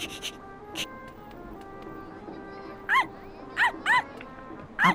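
Shiro, the small dog in a Shin Chan video game, gives several short, sharp barks in the second half, heard over busy game background sounds.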